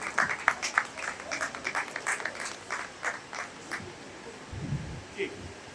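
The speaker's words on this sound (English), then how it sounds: "Let's put our hands together with the JCI clap for all our past presidents." Rhythmic group clapping at a JCI anniversary convention honoring past presidents, a patterned sequence of sharp, evenly spaced claps that fades out, followed by a short voice.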